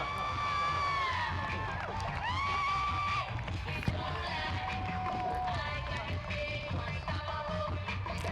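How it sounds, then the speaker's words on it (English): Festival crowd at the Sasquatch Festival 2009 at the Gorge, a dense outdoor wash of cheering, whoops and shouting voices that stays loud and steady throughout, with scattered calls rising above the roar. "Now we've got a crowd."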